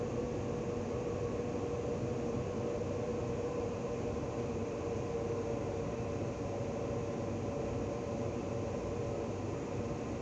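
Interior of a moving Waratah Series electric train nearing Museum station platform, a steady low rumble and hum with a faint whine, continuous and even, with no voices.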